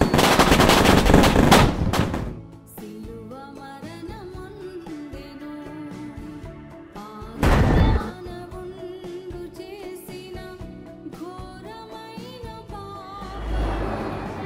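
Firecrackers bursting in a movie scene, a loud rapid crackling barrage at the start and another short burst midway, set against a music score with a rising noise near the end.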